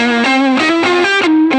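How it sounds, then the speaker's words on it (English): Electric guitar through an amp's fat switch boost with Tube Screamer-style overdrive, a run of sustained distorted notes stepping up and down in pitch, loud and close with no talking. "You can hit the fat switch to boost your solo sound, your solo tone, and you get this tube screamer kind of thing."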